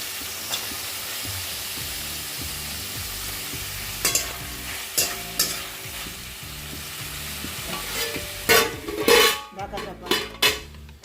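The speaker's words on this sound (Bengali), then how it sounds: "এই যে ক্যাপসিকাম আর পেঁয়াজ কেটে রেখেছি, এটা দিয়ে দিলাম" Chicken stir-fried with capsicum and onion in a hot pan: continuous oily sizzle with clattering spatula scrapes and metallic knocks against the pan, growing busier and louder toward the end.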